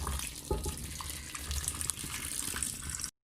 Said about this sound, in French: je vais rajouter de l'eau bouillante